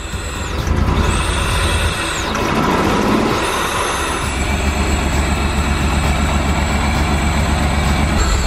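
Throttle blips on a barn-find Ferrari replica, freshly started on old fuel: the engine note climbs and falls in a few loud, close revs over a steady running drone.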